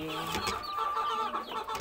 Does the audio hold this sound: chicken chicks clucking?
yes